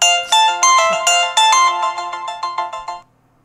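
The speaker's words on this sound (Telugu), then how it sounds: "పొద్దున్నే ఎవడరా ఫోన్?" A mobile phone rings in a house early in the morning, playing a bright melodic ringtone of repeating electronic notes for about three seconds before it suddenly cuts off.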